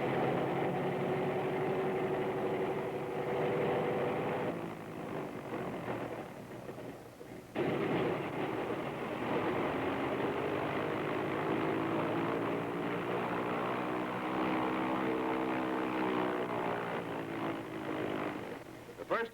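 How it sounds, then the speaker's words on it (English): An American Airlines Flagship propeller airliner runs up its engines before takeoff: a loud, steady droning roar that shifts partway through as one motor after the other is run. "The captain checks his motors, first one, then the other."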